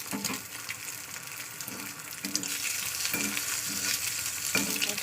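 An egg fries in a pan in a home kitchen, giving a steady close sizzle with bursts of spatter and scraping running through the whole stretch, without any voices.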